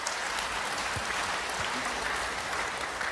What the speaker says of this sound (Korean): 다시 큰 박수.